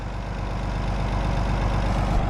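A farm tractor idles nearby with a steady, continuous low engine rumble that holds at an even level throughout, with no talking over it.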